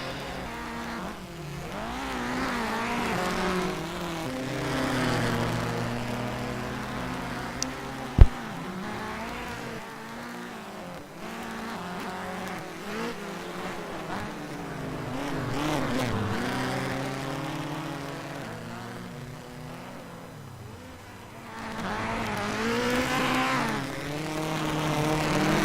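Subaru Impreza WRX STI rally cars race at a rallycross event, engines rising and falling through repeated revving sweeps as they pass at middle distance, with one sharp knock partway through.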